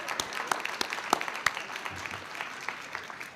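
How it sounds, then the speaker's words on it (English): An audience applauds an ensemble at a neighborhood summit grant celebration, a moderate patter of scattered hand claps with a few louder individual claps, fading slightly toward the end. "how about a round of applause again for that ensemble"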